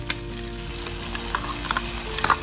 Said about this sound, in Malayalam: ഒന്ന് വാടി വന്നാൽ മതി, നന്നായിട്ട് ഫ്രൈ ആവും.